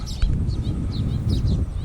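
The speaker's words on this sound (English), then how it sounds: "By the way, this is the golden weaver bird." Short high chirps from a golden weaver bird out in long grass in the Bangkok countryside, several quick calls over a low rumble of wind or handling noise.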